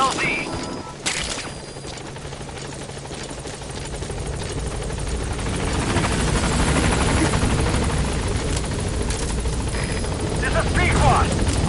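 The Pequod helicopter in Metal Gear Solid 5 arrives at the landing zone, its rotor thump and engine whine growing louder and closer, with clanking game sounds and a radio voice over the top.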